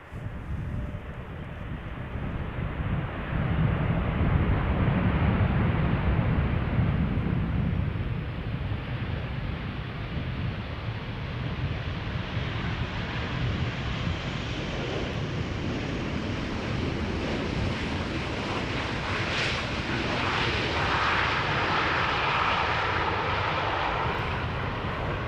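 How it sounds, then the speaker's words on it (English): Steady jet roar from a KLM Boeing 737-800 at Schiphol Airport, a broad continuous rumble swelling slightly then holding level throughout, moderately distant with no talk. "KLM flight 934 up first, 737-800"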